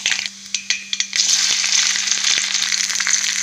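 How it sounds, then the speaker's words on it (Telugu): Mustard seeds, urad dal, cumin and peanuts splutter in hot oil. Close, loud crackling bursts come first, then settle into a dense, continuous sizzle with scattered pops. "ఆవాలు, మినపప్పు, జీలకర్ర వేసుకుంటున్నాం. పోపు దినుసులు ఇవి చిప్పట్లు ఆడేటప్పుడు మనం పల్లీలు వేసుకున్నాం."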